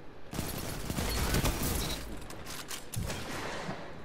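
Gunfire in the PvP shooter Destiny 2, a dense loud barrage of shots and blasts with game effects layered over it, continuous across the whole stretch.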